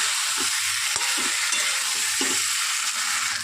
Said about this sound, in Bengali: এবার আমি আলুটা দিয়ে সাথে কষিয়ে নেব দেখুন সিদ্ধ আলুটা দিয়ে দিয়েছি